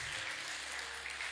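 A church congregation at an evening worship service claps together in dense, steady applause that lasts the whole moment, with no voices above it.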